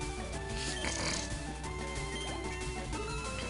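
A sleeping Pokémon in the game Pokémon LeafGreen gives a continuous snoring sound effect, buzzy and steady over game background music, loud and without talk.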